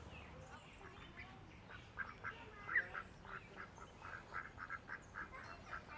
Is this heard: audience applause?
no